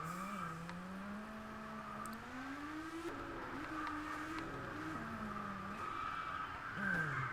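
A car spinning out in Test Drive Unlimited, wavering tire squeal and skidding over a revving engine, sliding up and down in pitch for several seconds before a louder surge at the end.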